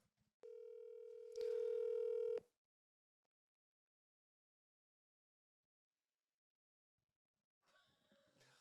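A telephone dial tone sounds as a call is placed, a steady electronic tone that steps up in loudness after about a second, cuts off sharply, then leaves near silence until faint noise returns at the end.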